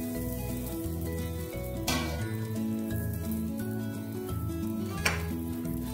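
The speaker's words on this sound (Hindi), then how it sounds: "आइए हम पराठा डालते हैं।" Beetroot-stuffed paratha laid on a hot tawa over a medium flame, sizzling steadily and close, with a couple of sharper crackles over a low hum.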